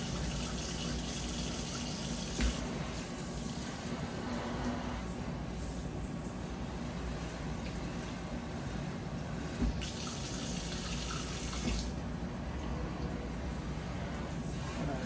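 Water runs steadily from a hose with a constant, close rushing hiss that barely changes throughout, with no talking over it.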